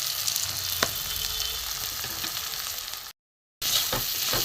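Spices hit hot oil in a pan for a dhaba-style egg tadka, throwing up a steady, dense sizzle with a faint stirring scrape, cut by a short silent gap before the frying resumes.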